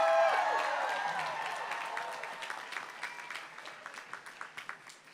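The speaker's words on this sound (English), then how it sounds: "Can I hear another round of applause for these graduates?" Applause for graduates rises from a crowd at a Leeward Community College commencement, dense and full at first, then thinning into scattered claps that fade into the background with some tonal sound at the start.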